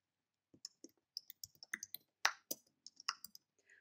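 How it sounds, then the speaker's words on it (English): A computer mouse click followed by a run of keyboard typing while text is added in Premiere Pro, with sharp, close key clicks arriving in uneven bursts over a quiet background and no voice. "you can just click on it and start typing"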